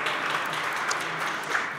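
Steady applause fills a parliament chamber during a session, many hands clapping together in a dense, continuous sound that holds at an even level from start to end.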